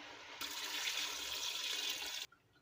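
Water pouring into a cooking pot in a village kitchen in Punjab, a steady splashing rush lasting about two seconds before stopping abruptly.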